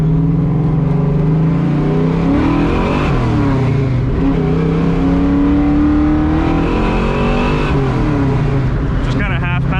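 A 1987 Mustang GT with a 347 V8 and a T5 manual pulls hard under way, its loud, close engine note rising and falling through steady acceleration, with a voice faintly underneath.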